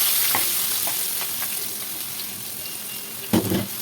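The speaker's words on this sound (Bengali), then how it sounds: "এবার কড়া চাপিয়ে পরিমাণ মতন তেল দিয়ে কুচানো পেঁয়াজগুলো লাল করে ভেজে নেব।" Chopped onions frying in oil in a wok: a steady, close sizzle throughout, with a few brief clicks of stirring and a louder burst of crackle near the end.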